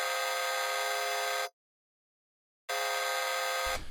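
Bright, buzzy 8-bit square-wave synth for an electronic track's drop, holding a steady harmonic-rich tone, cutting to silence for about a second, then returning just as loud and steady.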